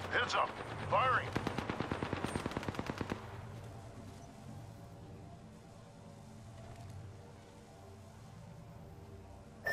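Rapid automatic gunfire in Apex Legends, a dense rattling burst of about two seconds, loud and close, then fading into a low game ambience with a brief voice callout near the start.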